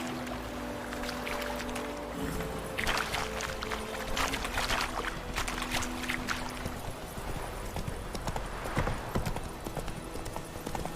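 Roach, Geralt's horse in The Witcher 3, gallops along in quick rhythmic clip-clop hoofbeats over a busy game ambience with faint rumbles and splashy textures, the pace steady throughout.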